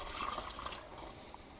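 White vinegar poured into a soda bottle trap for hornets and yellow jackets, a soft, steady liquid stream and trickle, close and fairly quiet, fading toward the end.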